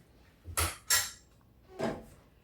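Chicken and cauliflower Alfredo being stirred in a pan, three separate scraping clanks of a utensil against the pan, close and clear with quiet gaps between them.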